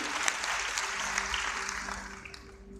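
A church congregation at a pre-Christmas service and fifth-anniversary celebration in Manado applauds warmly, a steady, dense wash of clapping from a large crowd that carries on throughout.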